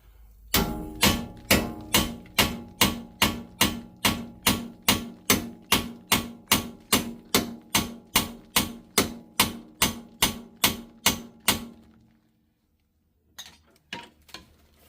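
A hammer strikes the steering knuckle on a 2018 CFMOTO Z-Force 1000 beside a pickle fork, about twenty sharp metallic blows in an even rhythm. Then it goes quiet and a couple of faint knocks follow.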